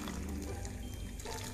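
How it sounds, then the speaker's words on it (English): Water pours into a pot of chicken soup, a continuous soft splashing trickle heard close up with no voices. "I might actually add a bit more water to this."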